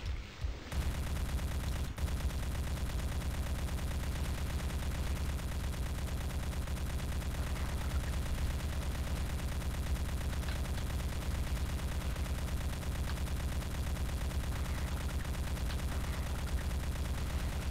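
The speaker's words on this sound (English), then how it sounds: "I guess I'll just shoot from here then." Continuous rapid gunfire in a video game, a dense, steady rattle of shots that holds at an even level for over fifteen seconds.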